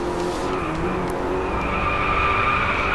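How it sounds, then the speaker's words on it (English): A race car in the driving game DRIVECLUB slides under the handbrake during a race in India, giving a loud, sustained tire screech over a steady engine roar. "I probably need a bit of handbrake here to help me."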